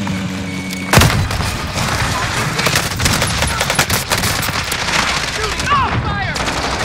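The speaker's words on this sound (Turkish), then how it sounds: "roket attılar" Rocket fired and exploding in Call of Duty Warzone: a sharp loud boom near the start, followed by continuous nearby gunfire and scattered impacts throughout.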